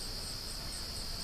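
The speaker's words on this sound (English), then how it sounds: "Bees are flying a little bit here in this nuke." Honeybees fly around a hive nucleus box, giving a steady buzzing drone with a bright, insect-like hum that holds constant through the moment.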